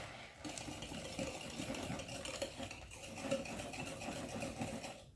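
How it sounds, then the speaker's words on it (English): Pumpkin bread batter with brown sugar is whisked by hand in a bowl, a continuous scraping, rhythmic stirring that runs close and steady for several seconds with no voices. "Give it a really good whisk."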